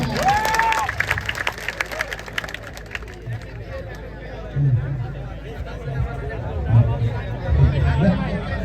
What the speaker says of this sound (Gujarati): તો એમને તાળીઓથી વધાવી લઈએ બધા.